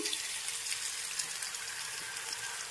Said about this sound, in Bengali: মশলার বাটিতে একটু জল নিয়ে মিশিয়ে এর মধ্যে দিয়ে দিচ্ছি।